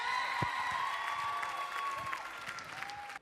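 A television studio audience at a Star Academy live show applauding and cheering steadily, dense clapping with a tonal whine running over it, then cutting off abruptly at the end.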